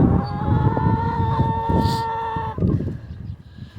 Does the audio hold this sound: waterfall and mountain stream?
no